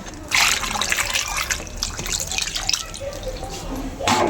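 Water is poured into a pot of biryani with salt and chilli powder already added, making a close, splashing, gurgling stream that runs for several seconds, with a louder burst near the end.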